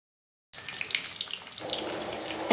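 Raw green banana hits hot oil in a kadai and starts a steady, hissing sizzle that stays even and fairly quiet after the sudden onset.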